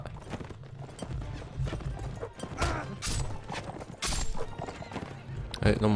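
A horse in Mount and Blade Warband takes hits and whinnies amid clattering hooves and combat crashes, with a voice talking over the game noise throughout.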